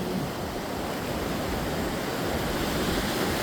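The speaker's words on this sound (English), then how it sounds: "See this wave coming this way and one coming in from that direction." Ocean surf with broken waves rolling in, a steady, full wash of rushing water that stays loud and continuous throughout, with no voices.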